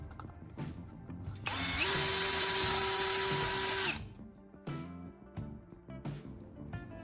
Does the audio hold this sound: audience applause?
no